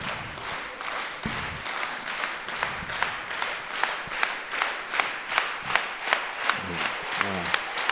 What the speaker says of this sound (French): Applaudissez-vous pour ce que vous faites.